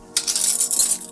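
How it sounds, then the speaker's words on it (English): A New York sour with egg white is shaken hard in a cocktail shaker at a restaurant bar, a loud, bright, continuous rattle of ice that starts abruptly and runs to the end. "We shake."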